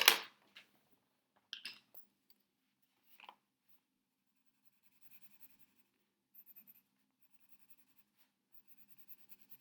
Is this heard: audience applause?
no